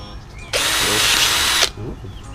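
A power drill with a drill bit whirs loudly in one steady burst of about a second, starting and stopping abruptly, during work on cleaning a water barrel filter.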